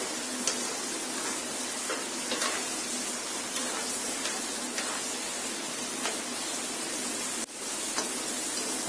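Crispy egg french fries sizzle steadily in hot oil while being stirred now and then, with light scrapes and taps at regular intervals over a constant close frying hiss.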